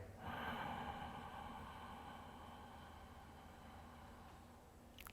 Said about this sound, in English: Breathing in through the nose with a slight constriction in the back of the throat so the breath makes sound like.